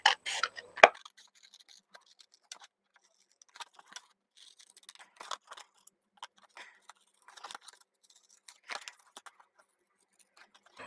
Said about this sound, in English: So all I'm going to do now is I'm going to fussy cut this out.